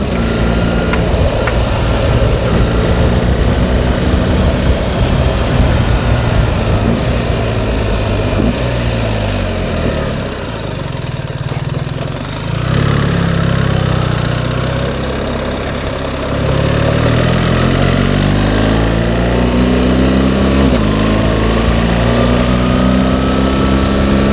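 A BMW R1300 GSA motorcycle accelerates hard with a loud, continuous engine roar and a brief dip where it shifts up a gear, then pulls again with rising pitch, heard from on the bike with wind rush and no talking.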